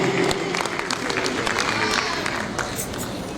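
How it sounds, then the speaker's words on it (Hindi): An audience applauds a first-prize winner at a dance award ceremony in Manas Bhawan, a brief burst of dense, even clapping throughout. "तालियों के साथ अभिनंदन, अभिवादन डॉक्टर नीति दुबे का।"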